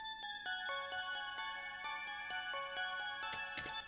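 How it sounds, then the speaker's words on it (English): A bright synth bell in FL Studio plucks out a steady, quick melody of ringing high notes for a trap beat, evenly paced, with a brief noisy swell near the end. "I guess, pretty sounding bell, high bell type sound."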